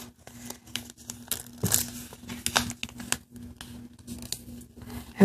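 Close paper crinkles and soft creasing scrapes while an origami elephant is folded in half, in short irregular bursts with brief quiet gaps and no talk.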